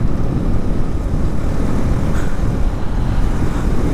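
Hero Xtreme 250R motorcycle on the move, a steady broadband road and engine rush that stays loud and even throughout, with no voices.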